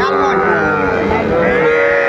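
A cow lows loudly and close by at a busy cattle market in Dinajpur where bulls, heifers and calves are sold, a sustained tonal moo over a murmur of background noise.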